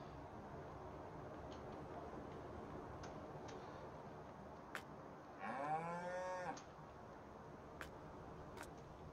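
One cow moos clearly for about a second on a farm in Farming Simulator 19, Nordfriesische Marsch map, over steady low ambient noise and faint regular ticking.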